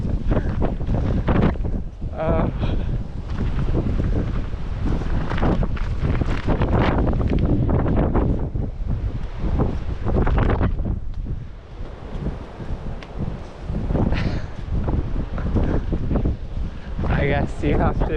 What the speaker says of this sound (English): Get out of the wind so that I can hear again.